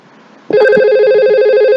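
Simulated VoIP desk phone ringing in Cisco Packet Tracer, a steady electronic warble that starts abruptly and holds loud and continuous with no talk.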